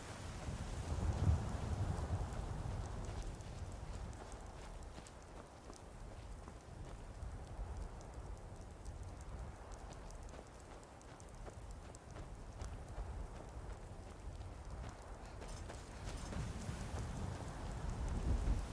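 Steady rain in Skyrim hisses and patters continuously, with a deep low rumble underneath swelling at the start and end; no voices.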